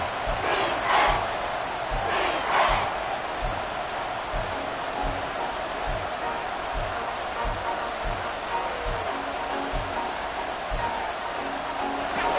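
Stadium crowd roaring and cheering in a Madden football video game, a dense continuous wall of crowd noise with rhythmic low thumps throughout and brief louder swells of shouting.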